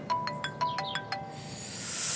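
A phone ringtone plays a quick sequence of bright chiming notes at moderate volume, then fades into a hissy background.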